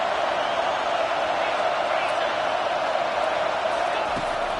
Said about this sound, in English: Listen to this crowd just shaking the girders of this place